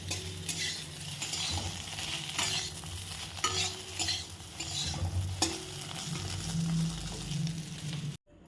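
Cumin seeds and chopped ginger crackle in hot oil in a home kitchen, a close, steady sizzle broken by repeated metal stirring scrapes and clinks.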